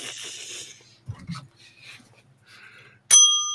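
After some soft rustling and breathing, a single bright ring of a small bell strikes near the end, its clear tone lingering and fading.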